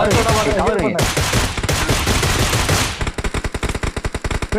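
Gunfire from the video game PUBG Mobile comes in loud, dense automatic bursts, ending in a rapid string of evenly spaced individual shots.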